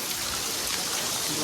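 Rain falls steadily outdoors, heard as a dense, even hiss of drops with no breaks through the short stretch.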